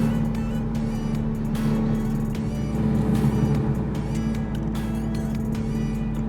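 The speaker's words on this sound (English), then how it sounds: "Rather than hit my brake, I'm going to just throw it in lower gear, bring it back down to 25" A car engine brakes in a lower gear while descending near the Royal Gorge at Cañon City, Colorado, whining steadily at about 4,500 RPM. A constant drone and road rumble run throughout, up close and without a break.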